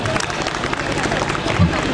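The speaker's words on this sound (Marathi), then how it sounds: "यांच्यासाठी टाळ्या वाजवा." Audience clapping at a village Paithani game-show event, a dense burst of applause and crowd noise lasting a couple of seconds, with chatter mixed in.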